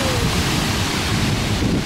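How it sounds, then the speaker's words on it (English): Gusting wind at the Punakaiki pancake rocks coast, mixed with a surf-like wash, forms a loud, constant rumble against the microphone without speech. "Sorry about the wind."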